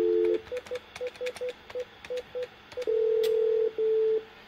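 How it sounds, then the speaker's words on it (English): Near and clear, a telephone keypad beeps out a series of short DTMF tones to reach a Bogan paging system, then two longer steady tones sound. "So I'm going to go ahead and come over here and dial the paging system."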